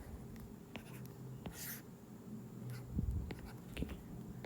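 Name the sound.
sketching a graph by hand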